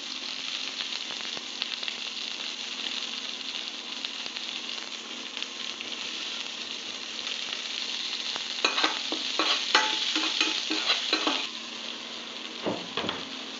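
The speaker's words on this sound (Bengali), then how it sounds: "তার মধ্যে কতগুলো পেঁয়াজ কুচি দিয়ে দেবো।" Chopped onions fry in hot oil for a Rohu fish curry, a steady crackling sizzle with bursts of scraping and clattering from stirring near the end, close and fairly quiet, no talking.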